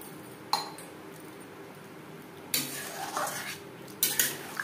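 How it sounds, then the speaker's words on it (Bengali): Metal spoon clinking and scraping in a pot as boiled gathi kochu taro and potatoes are stirred into fish curry gravy, a few sharp knocks separated by quiet stretches, no voices. "গ্রেভির সাথে বেশ ভালো করে গাঁটি কচু আলু মিক্সড করে দেবো।"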